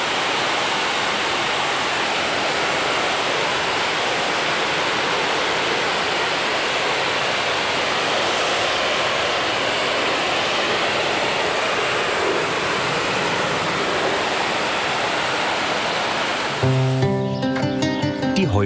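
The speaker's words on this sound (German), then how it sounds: "Inzwischen ergibt sich auch Edgar dem Wasserstrahl" A powerful water jet from a hose sprays down an elephant at a zoo, a loud, steady hissing rush that runs unbroken until it cuts off near the end.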